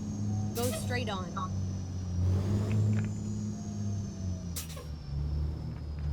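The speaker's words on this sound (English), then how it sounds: "Engine doesn't sound super great compared to the other trucks I've driven, but we move." A Kenworth W990 truck engine in American Truck Simulator, hauling an arctic super logging load, holds a steady low droning hum throughout, with a couple of brief hissing bursts over it.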